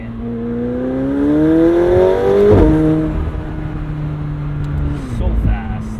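A McLaren 720S Spider accelerates hard, its engine note climbing loud and close before a quick shift into second drops the pitch, then the revs hold and build steadily again.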